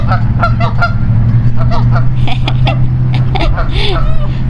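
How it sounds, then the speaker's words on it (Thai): Ducks honk and quack loudly and repeatedly at close range over a steady low hum, with calls overlapping in noisy bursts. "โอ้โหเป็ดนี่เสียงดังจริง"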